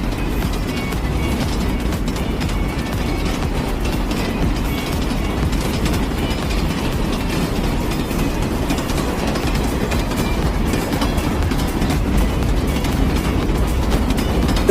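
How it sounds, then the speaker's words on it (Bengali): A train rumbles past in a continuous heavy roar of wheels on rails, loud and close, holding steady without a break. "যখন এটার ওপর থেকে ট্রেন চলে গিয়েছে"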